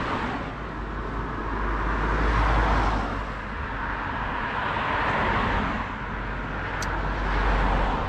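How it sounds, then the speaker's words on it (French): Cars pass by on a road one after another, each swelling and fading as a broad whoosh over steady traffic rumble, with no talking. "moi je vous retrouve après le passage des voitures"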